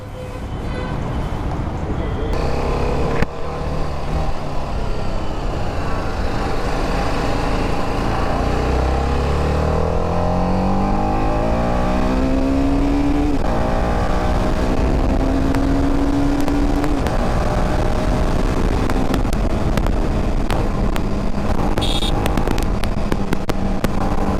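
A TVS Apache RR 310 motorcycle engine drones steadily while riding, pitch rising and falling as it accelerates, with constant road and wind noise throughout.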